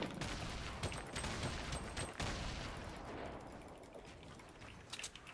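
Dense gunfire from a Fortnite battle royale fight, a steady crackling fusillade of shots running throughout, fading slightly toward the end, heard at a low level with no talking.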